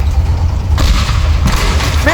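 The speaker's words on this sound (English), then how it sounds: "Alright, Mary, we are safe now, but the ship is still exploding" A ship exploding in the video game Teardown, a continuous loud low rumbling roar with heavy booms throughout.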